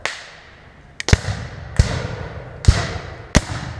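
Black-powder muskets fired at a Civil War reenactment ring out as five loud, sharp, separate reports at uneven intervals, each cracking close by and trailing off into an echoing decay.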